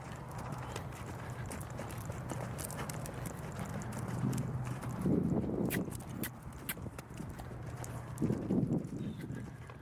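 Hooves of a relaxed mare clip-clop in a steady walking rhythm that grows a little louder and quicker as she speeds up, close by, with faint outdoor background.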